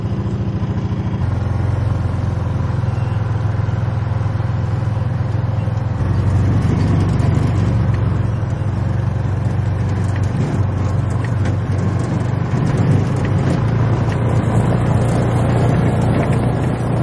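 A side-by-side utility vehicle drives along on a homestead, its engine holding a steady, fairly loud drone with a little rough variation throughout. No voices are heard.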